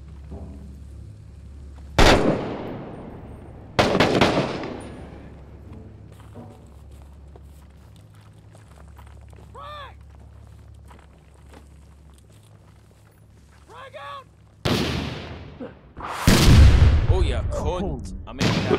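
Gunfire in the urban combat video game Six Days in Fallujah: a few sharp, loud shots spaced seconds apart, a cluster coming near the end, between brief stretches of quieter ambience with faint voices and radio chatter.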